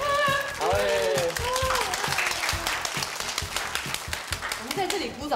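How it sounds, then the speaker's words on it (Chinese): A group bursts into sustained applause during a Kaohsiung day-trip outing, with brisk steady clapping mixed with excited shouts and chatter throughout. "我们在这里鼓掌，他听得到吗？"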